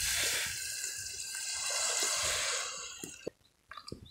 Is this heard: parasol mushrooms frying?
no